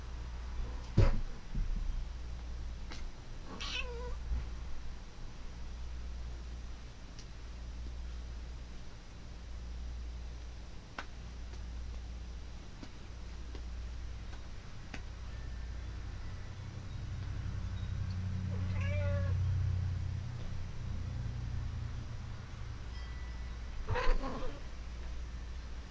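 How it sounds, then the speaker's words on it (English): A sister's house cat meows a few times in the background of a quiet room, with brief faint calls spread across a steady low hum. "If you hear meowing in the background, it's my kitty cat."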